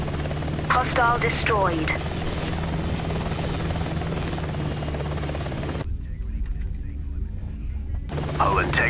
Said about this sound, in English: They're sending out recon choppers. Apache sighted.